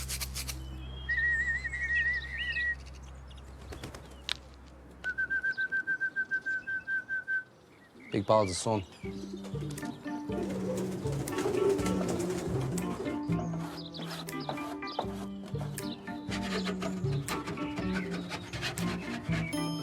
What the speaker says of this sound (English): Pigeons coming everywhere now.